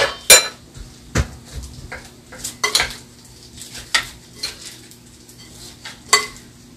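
Utensils clinking against a bowl or pot while garlic vinegar brine of vinegar, sugar, salt and garlic water is stirred, giving irregular light taps and scrapes, close by with no talking.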